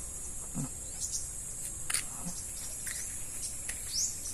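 Short bird chirps ring out a few times over a steady, dense chorus of crickets in the rural countryside of Palina, San Isidro, Monkayo, Davao de Oro, with the calls fairly faint against the insect drone.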